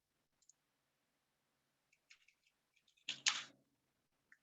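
A computer mouse clicked up close in a quiet room, a few faint isolated ticks followed by a sharper, louder double click and one last soft tap.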